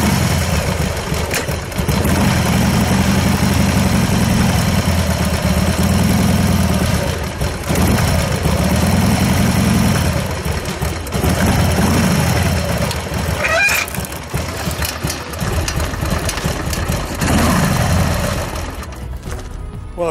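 Harley-Davidson Sportster 1200 motorcycle engine idling in neutral with the clutch pulled in, a loud, steady, lumpy low rumble that swells and dips rhythmically for the whole stretch, close to the microphone with no talking.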